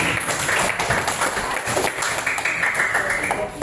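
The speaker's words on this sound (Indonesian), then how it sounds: "Ambil tepuk tangan dong buat semuanya." A classroom bursts into steady, crowded applause, with many hands clapping loudly and continuously. A few voices mingle faintly underneath.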